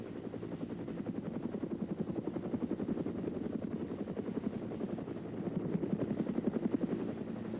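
Steady, low rotor thumping of helicopters landing to drop off Marines, continuous and fairly close, with no voices.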